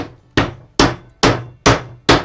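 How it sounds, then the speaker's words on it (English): A mallet hammer strikes a pipe end to flatten it, landing a steady series of loud, sharp, close blows about half a second apart, each ringing briefly before the next hit, with no talking. "So we're using a mallet hammer to do this."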